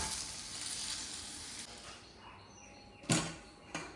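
A dosa sizzles loudly on a hot pan in a home kitchen, a steady crackling hiss up close, then a sharp scrape and clatter as it is flipped, followed by a smaller knock, with no one talking.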